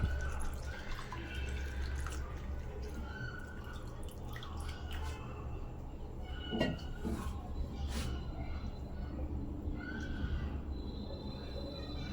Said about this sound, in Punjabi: ਹੁਣ ਆਪਾਂ ਇਹਦੇ ਵਿੱਚ ਹੋਰ ਦੁੱਧ ਪਾ ਦਾਂਗੇ